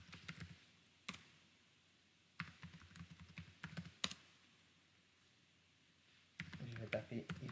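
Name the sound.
typing ifconfig on a computer keyboard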